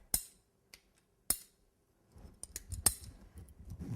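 Cutters snap a wooden cake dowel for a decorated cake, giving a few sharp close clicks and cracks that turn into a cluster of rough crunching snaps toward the end, with no talking.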